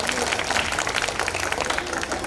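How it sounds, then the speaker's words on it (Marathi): Dense, steady applause from an audience at a cultural program, cheering on child performers; continuous clapping fills the whole stretch with a crowd murmur underneath. "जोरदार टाळ्या वाजवून आमच्या बालकलाकारांचा मनोगत वाढवा"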